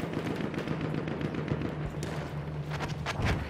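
Gunfire in Battlefield 1, a dense, continuous rattle of rapid shots and booms at moderate distance, steady throughout with a low engine-like drone underneath.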